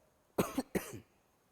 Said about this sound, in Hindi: बहुत दिन बाद इतना बोल रहा हूं ना, इसलिए खांसी आ रही है